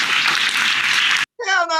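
Brisk audience applause fills the first second or so, cutting off abruptly to a gap before a voice starts talking in the closing half second.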